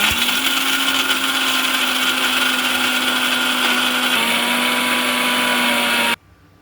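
Mixer grinder blending a masala paste for stuffed eggplant curry, running as a loud steady whine for about six seconds at close range, then cutting off abruptly.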